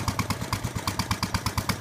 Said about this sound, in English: No, it's like an old hit and miss, like agricultural engine.